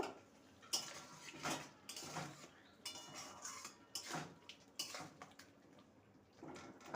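A spoon stirring garam masala powder into a thick bean curry in a pot, irregular metallic scrapes and clinks against the pot wall in repeated bursts, close and distinct.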